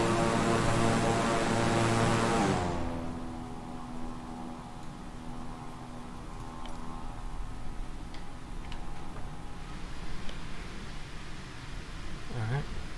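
A King Air 350i twin-engine turboprop cruising in Microsoft Flight Simulator, its steady propeller drone loud at first, then dropping to a quieter, even hum heard from outside the plane.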